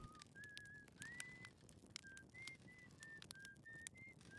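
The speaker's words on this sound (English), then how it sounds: "So you sit with him for a bit longer, listen to the quiet whistling." Esker whistles quietly in the video game Outer Wilds: a soft, unaccompanied melody of short sustained notes, rising and falling at a gentle pace, faint and distant over a low ambient hum.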